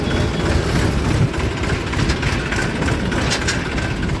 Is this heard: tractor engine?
yes